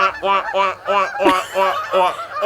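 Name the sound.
Canada geese honking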